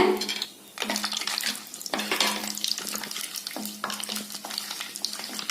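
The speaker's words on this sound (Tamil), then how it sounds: "பாருங்க, இது எல்லாமே இந்த நெய் ஆயில்ல வதக்கிடலாங்க." Whole spices such as stone flower, bay leaf and mace sautéing in ghee and oil for kovakkai biryani, giving a steady close sizzle with stirring scrapes and a low tonal hum underneath, no talking.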